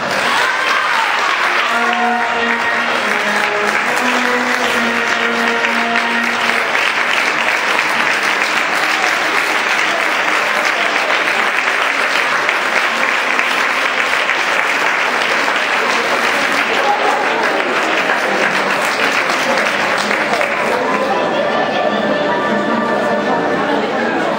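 Loud, sustained applause from a crowd welcoming the child president of the Falla Pensat i Fet for 2012-2013, a dense, even roar of clapping throughout, with faint tonal music or voices beneath it.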